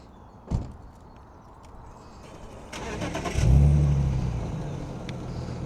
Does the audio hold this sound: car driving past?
yes